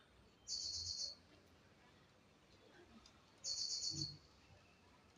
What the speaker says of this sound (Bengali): পাখির আওয়াজ কি ভালো লাগছে